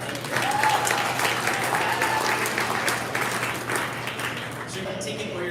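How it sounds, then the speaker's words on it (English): A crowd applauds at the ribbon cutting for San Francisco's Central Subway. The clapping is sustained and moderately loud throughout, and a voice can be heard talking over it. "yeah, clap for that."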